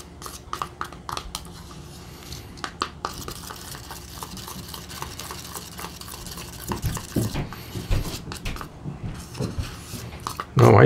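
Fluid matte medium is mixed with a tool in a small container for gelli printing, producing close, irregular scraping and tapping strokes over a quiet background, ending in a louder knock.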